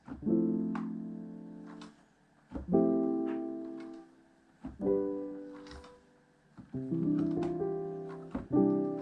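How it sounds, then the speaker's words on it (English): Soft lo-fi piano chords played slowly in FL Studio, each sustained and left to ring before the next, five gentle strikes with no voices. "It's a soft piano."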